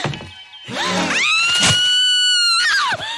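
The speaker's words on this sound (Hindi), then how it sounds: "माँ चिल्लाओ मत, माँ चिल्लाओ मत, माँ कोई आ जाएगा" A woman screams in fright in a Bollywood film song scene, a long sustained high shriek rising and holding loud for about two seconds, then breaking off, with a few thumps around it.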